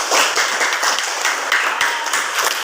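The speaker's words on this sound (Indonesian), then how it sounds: "Kasih aplaus untuk Sita hari ini." A classroom of pupils clapping for a classmate named Sita, steady close applause of many hands lasting a few seconds before stopping abruptly.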